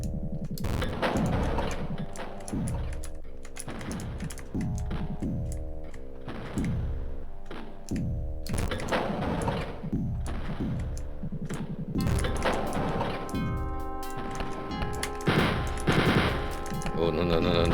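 Enemy gunfire in Wolfenstein 3D: rapid, repeated bursts of retro digitized shots rattle through the whole stretch, loud and near, layered over tonal game music.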